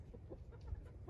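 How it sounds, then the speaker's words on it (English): Chickens clucking in low, uneven bursts while being caught and held for wing clipping, fairly close with some scuffling. "So I'm gonna try to hold a chicken and see if I can get it to be calm."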